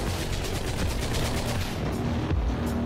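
Rapid, continuous gunfire rattles away in the video game Katana ZERO, a dense stream of bullet shots with steady loudness throughout.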